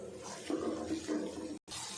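Water pours into a cooking pan of spiced dal with turmeric and red chili in a short, splashy stream lasting under two seconds, close by, then cuts off abruptly.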